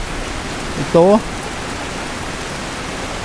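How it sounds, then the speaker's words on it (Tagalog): Heavy rain falling steadily outdoors near a creek, a constant broadband hiss filling the whole clip, with a brief spoken word cutting through it. "Patuloy pa rin ng palakas ng ulan."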